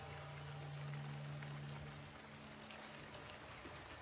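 Rain falling and dripping in The Last of Us Part II, a faint steady patter and hiss with a low hum underneath.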